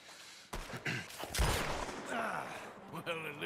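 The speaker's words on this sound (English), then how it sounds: "I see Sean shooting" Gunfire in the Red Dead Redemption 2 video game: several sharp, loud shots burst out over a busy mix of voices and game noise, with a heavy blast near the middle and scattered cracks after.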